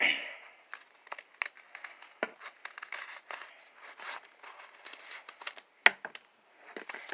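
Paper book pages cut with scissors, producing faint close snips and soft crinkling rustles in an irregular rhythm, with a sharper snip near the end.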